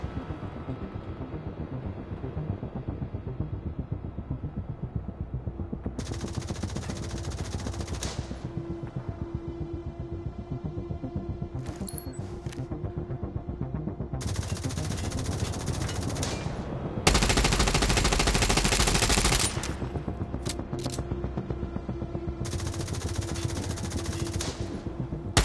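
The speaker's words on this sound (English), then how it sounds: "You must learn to anticipate the time windows when the turret stops firing." A turret machine gun in Division Resurgence firing in long sustained bursts over a steady rumbling background, with pauses between bursts and one louder, denser stretch near the middle, no talk.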